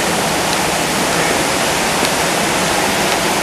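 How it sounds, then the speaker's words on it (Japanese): Umore waterfall near Nabari in Mie, Japan, pours in a loud, steady rush of falling water that holds evenly throughout, with no voices over it. "埋もれの滝。"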